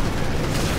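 Grenade explosion in Call of Duty Modern Warfare 3, a loud, close, rumbling boom with broad crackling noise filling the brief moment.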